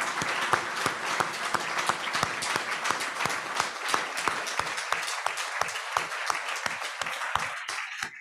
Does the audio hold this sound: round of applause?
yes